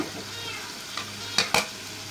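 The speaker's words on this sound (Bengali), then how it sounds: "তারপর মশলাগুলো একটু কষিয়ে নেব" Spices stir-fry in a kadai with a soft, low sizzle, then a few sharp scraping stirs near the end.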